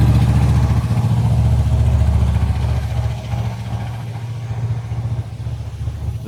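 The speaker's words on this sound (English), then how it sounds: "Lots of noisy trucks today." Heavy trucks rumble past outdoors, a loud continuous low engine drone that swells early and then eases slightly, steady throughout with no talking.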